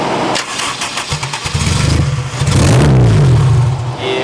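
A Fox Body Mustang with a rich-running fuel mixture cranks over in a few rapid bursts, then catches and roars to life, settling into a loud, rough, throaty idle with a brief rev toward the end.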